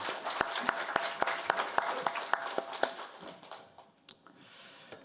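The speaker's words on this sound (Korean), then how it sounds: "우리 주님께 다시 한번 영광의 박수 올려드리도록 하겠습니다" Church congregation at Sunday worship giving applause, a run of distinct claps in steady rhythm at the start that thins out and fades, leaving quiet room sound.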